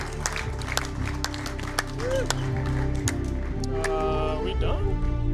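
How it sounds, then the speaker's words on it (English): Steady crowd noise with scattered claps and cheering at a FIFA 17 esports regional final, voices mixed in throughout the din. "Clapping."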